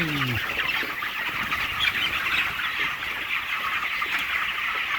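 A large flock of chickens raised for harvest at a farm in Taiwan clucks and squawks continuously, a dense, busy chorus filling the whole stretch with no pauses and no talking.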